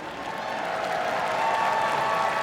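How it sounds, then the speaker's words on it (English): A large audience at the Westminster Dog Show applauds steadily during the Sporting Group judging, a dense wash of clapping and light cheering that holds even and builds slightly, heard from within the arena. "Getting support from the crowd"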